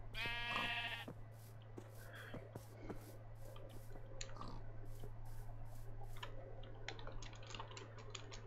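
Sheep bleat in a video game world, a brief clear bleat at the start followed by scattered ticking and dripping game sounds over a constant low hum, no talk.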